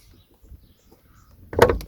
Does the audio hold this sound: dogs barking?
no